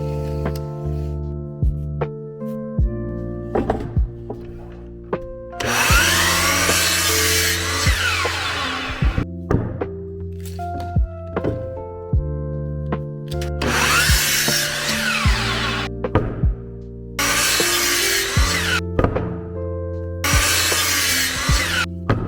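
A power saw cuts 2x4 wood into brace pieces for an outdoor plant stand, with several loud bursts of broadband cutting noise separated by quieter pauses and a steady motor hum, no talking.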